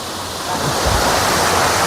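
A waterfall (curug) in Majalengka, fed by water from Mount Ciremai, gives off a steady, loud, close broadband roar of falling and splashing water that fills the whole clip without pause.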